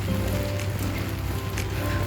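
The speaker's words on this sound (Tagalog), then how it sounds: "Umuulan." Rain falls steadily in Greece, a constant close hiss of drops spread evenly through a brief stretch, with no voices.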